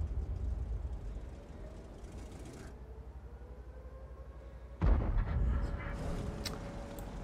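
Tank destroyer cannon in a tank video game firing one heavy low boom partway through, over a constant rumbling engine drone, with faint talk in the background.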